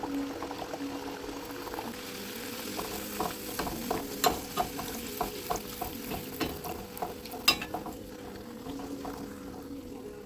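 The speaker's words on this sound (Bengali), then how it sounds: "আরও একটা কচুরি আমি তোমাদের ভেজে দেখাচ্ছি।" A pea-filled kachori deep-frying in hot oil, a bubbling sizzle with a low steady hum underneath and a run of soft ticking spatter bursts in the middle.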